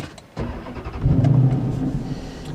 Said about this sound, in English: This is an aftermarket Corsa exhaust that the previous owner put on, and it sounds fantastic